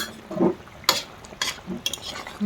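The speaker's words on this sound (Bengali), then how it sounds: "একটু নাড়া দিয়ে দেবো" A spoon stirring bata fish curry in a pot, village-style cooking, with a few sharp metallic scrapes and clinks against the pot over a faint bubbling background.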